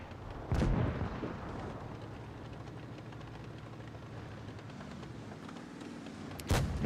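Tank cannon fire in World of Tanks Blitz: two sharp, loud booms, one near the start and another near the end, separated by a steady engine rumble and battle ambience.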